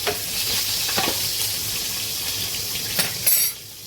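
Spicy green chilies sizzle steadily in a hot pan for an ivy gourd bhaji, a continuous close frying hiss with a few brief spits and crackles, no talk.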